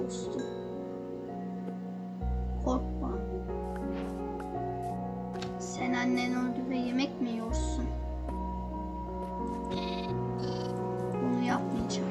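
Sheep in the Minecraft video game bleat repeatedly, several wavering game-sound bleats spread across the stretch over a constant low background hum, with a voice talking at times.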